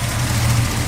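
A dually pickup truck's engine idles with its AC compressor engaged, a steady low rumbling drone with a constant hum, close and fairly loud, unbroken and with no talk.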